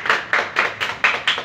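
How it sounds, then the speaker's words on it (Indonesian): A group of people clapping in unison during a classroom group counseling session, six or so sharp, evenly spaced claps, close and loud, with no talking. "Tepuk tangan untuk kita semua."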